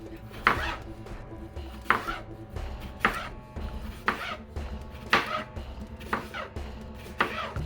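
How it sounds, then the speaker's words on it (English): A knife slices a vegetable with its skin left on into rounds, about seven crisp, evenly spaced cuts landing on a cutting board with a steady rhythm, close and clear. "We're going to start slicing it."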